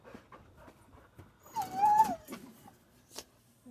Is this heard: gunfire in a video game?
no